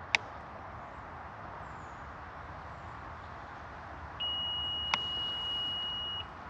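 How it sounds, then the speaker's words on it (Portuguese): A single steady electronic beep from a motorcycle sounds for about two seconds over a faint background hum, preceded by a couple of small clicks. "Ouviram? Ela fez um bip."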